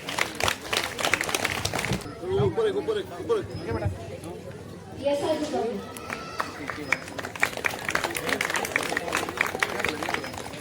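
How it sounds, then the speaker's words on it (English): An audience applauds a first-prize schoolboy winner at a road safety painting prize event, with steady clapping under an announcer's voice, a brief lull midway, then the clapping swells again. "Can we give a huge round of applause?"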